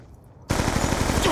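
Automatic gunfire in the Black Ops 2 shooter game, a rapid close burst that breaks out suddenly after a quiet moment and keeps going as a loud, even rattle to the end.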